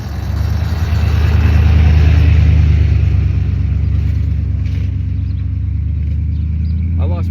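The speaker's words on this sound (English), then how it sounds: "Let this car pass." A car passes close by on a street, a steady low rumble swelling over the first few seconds and slowly fading, with faint talk beneath it.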